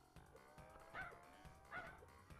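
A cartoon puppy dog yelps twice as it is squashed under a high heel in Crash Bandicoot 2: Cortex Strikes Back, short squeaky cries over busy game music and effects.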